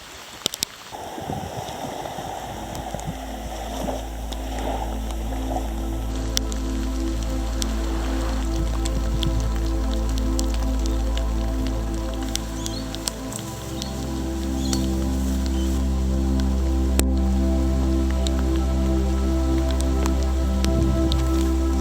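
Steady patter of rain with scattered drips over a constant low hum on a Whitsunday wilderness hiking trail, continuous throughout with no voices.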